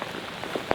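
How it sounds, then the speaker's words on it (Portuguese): Scattered first raindrops of rain falling in an Amazon forest, soft light patters over a low hiss, ending with one or two sharper, closer drops. "Começou a chover. Os primeiros pingos de chuva."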